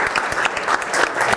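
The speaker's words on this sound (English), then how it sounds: "Please give a warm round of applause to Jim Christianson." A short burst of warm audience applause at a local history talk about the Dakota Zoo, many hands clapping briskly and close for just over a second.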